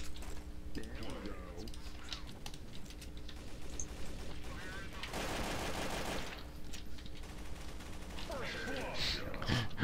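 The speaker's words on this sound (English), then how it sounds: "our whole team just started shooting at each other" Rapid gunfire bursts from the video game Counter-Strike: Source crackle throughout under steady game noise, with a denser volley midway as a team shoots at each other, while players talk over it.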